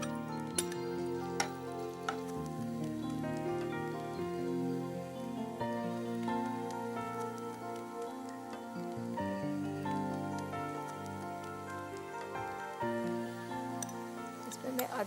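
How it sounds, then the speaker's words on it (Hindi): Onions frying in hot ghee give a steady, fairly quiet sizzle that runs alone throughout, with soft stirring scrapes now and then. "घी गरम करके पहले मैं प्याज फ्राई करूंगी"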